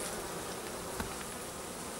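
Steady, dense buzzing of many honey bees, a continuous close hum with no pauses or voices.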